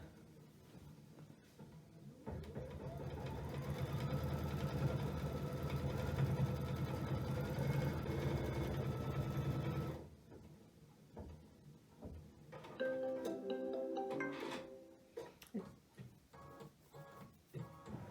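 A Luminaire sewing machine stitches out quilt sashing in a steady, continuous whirring run of about eight seconds, then stops. Quieter clicks and mechanical shifts follow as the machine moves to the next pattern.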